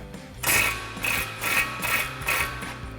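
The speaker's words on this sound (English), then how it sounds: "We've got an 18 millimeter socket and a swivel with an extension on our impact." An impact wrench with an 18 mm socket, swivel and extension loosening an upper ball joint nut on a 2021-2025 Ford Bronco, rapid hammering bursts pulsing about twice per second, loud and close, no speech.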